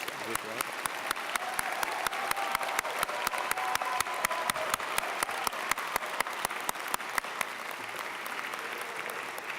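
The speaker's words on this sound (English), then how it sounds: "So if we could all say a huge round of applause for the graduates." A large audience at a fall engineering convocation applauds the graduates with steady, sustained clapping that fills the hall and continues evenly without pause.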